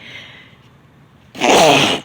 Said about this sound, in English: that was a full body sneeze